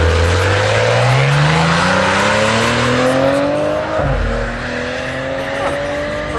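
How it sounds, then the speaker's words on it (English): A Maserati with a dealer tag launches down a drag strip, its loud engine climbing steadily in pitch, then dropping sharply at a gear change before revving up again. "First time I've ever seen a Maserati go down the track."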